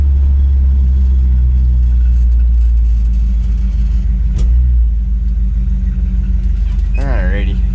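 A 1958 Canadian Pontiac Parisienne with a 283 cubic inch engine on a test drive, a steady loud low rumble from inside the car with a brief rising whine near the end, while someone talks throughout.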